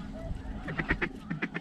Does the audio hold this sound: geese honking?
yes